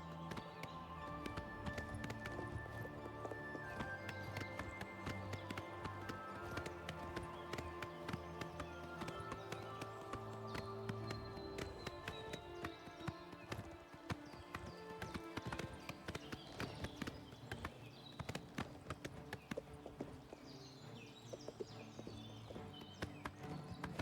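Shadowmere, a horse in a video game, gallops with rapid, steady clip-clopping hoofbeats that run throughout over a bed of tonal background music.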